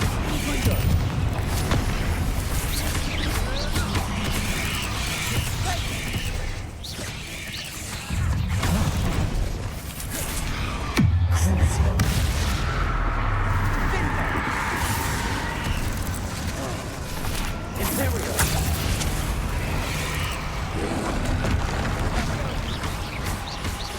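Confringo fire spells blast again and again in the Hogwarts Legacy video game, with dense, loud booms and crashing impacts rolling through a chaotic battle while a voice calls out at intervals.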